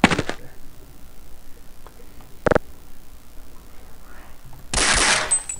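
Pistol shots in the Half-Life video game: three sharp isolated bangs spaced a couple of seconds apart, the last followed by a brief burst of noise, over a quiet background.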